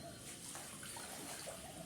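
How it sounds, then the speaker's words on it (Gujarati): Water runs steadily as a container fills at home, a continuous, fairly loud rushing hiss that lasts the whole time with no voices. "જો પાણી ભરવાનું ચાલુ છે"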